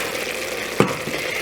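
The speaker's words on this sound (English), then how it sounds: "I'm going to put in the garlic now." About two cloves of garlic sizzling in a pan on medium-high heat, a steady soft frying hiss with one brief clack of a utensil or garlic hitting the pan.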